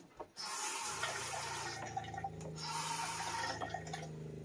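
Water runs steadily from an RV bathroom sink faucet, a hissing, splashing stream that starts abruptly and continues at close range without any talk.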